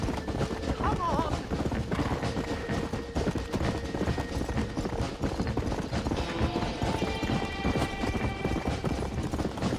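Hooves clip-clop in a fast, steady gallop from a horse in the video game Red Dead Redemption, with game voices and music alongside.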